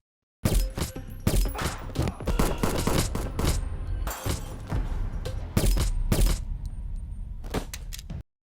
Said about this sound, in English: An armed attacker bursts in and opens fire.